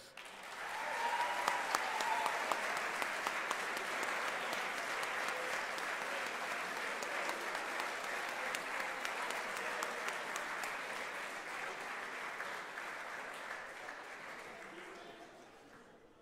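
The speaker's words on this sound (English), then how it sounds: "now it's time to honor our Drew Rangers class of 2018 one last time with a round of applause" Sustained crowd applause honoring the Drew Rangers class of 2018 at an awards event, a dense steady wash of many hands clapping for about fifteen seconds before tapering off near the end.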